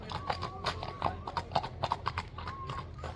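Horse hooves running, a quick uneven clip-clop of several hoofbeats close by, fairly loud against a low outdoor rumble.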